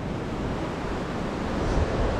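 Sea surf at Benaulim beach in South Goa makes a steady, broad roar of waves mixed with wind buffeting the microphone, unbroken throughout and with no voices.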